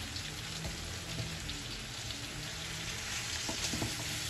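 Beef and sinigang mix being stirred in a cooking pot, with a steady sizzling hiss throughout and a few soft scraping knocks near the end, close and alone.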